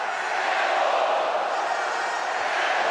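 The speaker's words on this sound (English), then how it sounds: "that has given the crowd something to cheer about here" Handball arena crowd at a women's Champions League semi-final cheering, a dense, sustained roar filling the space evenly at a loud level.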